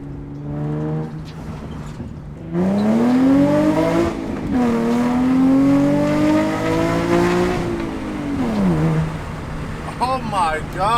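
A Nissan 350Z with a Tomei exhaust revs loud and close. Its droning engine pitch climbs and holds, then drops abruptly near the end as the car is shifted into the wrong gear.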